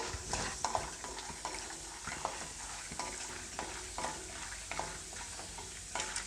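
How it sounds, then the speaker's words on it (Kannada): Peanuts and urad dal frying in a pan, giving a steady close sizzle with a continuous crackle and faint stirring scrapes throughout, with no talk. "ಕಡಲೆ ಬೀಜ ಮತ್ತು ಉದ್ದಿನ ಬೇಳೆನ ಒಂದು ಸ್ವಲ್ಪ ಫ್ರೈ ಮಾಡ್ಕೊಳ್ಳಿ"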